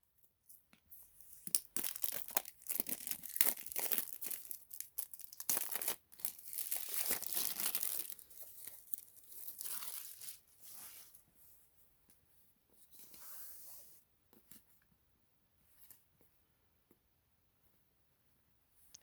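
Tearing and crinkling of a Surface Duo 2 phone box's pull tab as it is yanked open, a run of loud rips and crackles up close, easing into scattered faint rustles toward the end.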